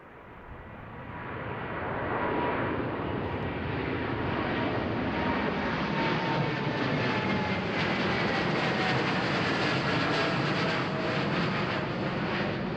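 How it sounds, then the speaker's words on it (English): A KLM Boeing 787-10 airliner passes at Amsterdam Schiphol, its jet roar swelling within two seconds into a loud, broad, steady rush that holds unbroken to the end, with no voices over it. "That is a 787-10 from KLM, and it is going to Willemstad in Curaçao."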